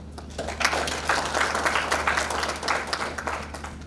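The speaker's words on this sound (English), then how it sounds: "I would ask you to each clap for yourself for the work you've done." Clapping from an audience of pensioners at an association launch in Juba, a dense, continuous round of applause at steady strength over a low background hum.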